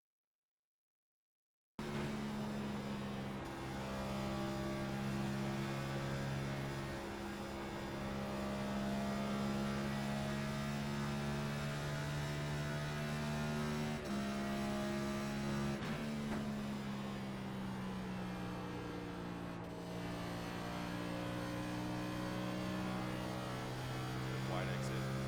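A Next Gen race car laps Darlington in the iRacing sim, its engine a steady droning whine that holds through long stretches with small pitch shifts, loud and continuous after a silent start.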